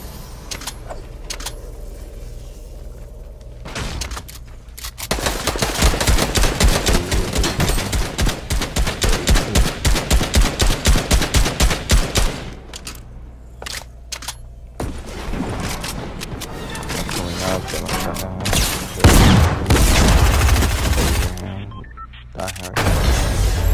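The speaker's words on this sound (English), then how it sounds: "I'm shooting." Rapid automatic gunfire in the video game Fortnite, in long rhythmic volleys with gaps and a heavy boom later, loud and close amid other game effects.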